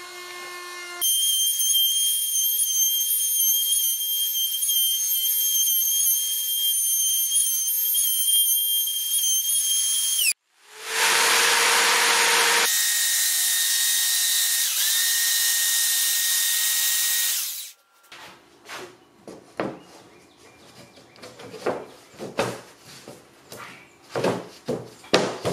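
A power tool whines loudly while cutting a rabbet into a walnut table top, running in two long sustained bursts separated by a brief stop, followed by scattered knocks and handling clatter.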